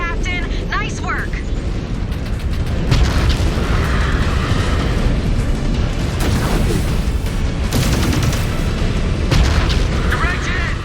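A mech blowing apart in the MechWarrior 5: Clans video game, heavy booming blasts and rumbling debris filling the mix, with loud surges around the middle and near the end over continuous game noise.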